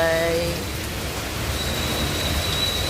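Rain falling on a house roof, a dense steady patter of drops that holds at an even level throughout, with no voices over it.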